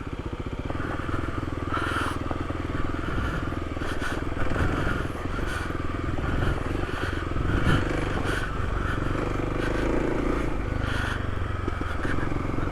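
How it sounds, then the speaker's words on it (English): A new Kawasaki KLX300 dual-sport motorcycle rides off-road on hard-packed desert ground in Joshua Tree, its engine droning steadily and loudly close up, with gravel scraping and clattering under the tyres throughout. "this bike ride's great"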